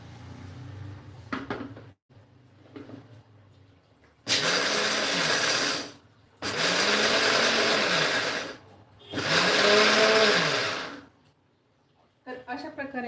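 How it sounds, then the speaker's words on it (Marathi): Mixer grinder pulverising roasted peanuts for peanut-jaggery ladoo, run in three loud whirring bursts of a few seconds each with short pauses between, quieter kitchen handling before and after. "तर आता हे थोडे थोडे करून आपण मिक्सरला छान फिरवून घेऊयात"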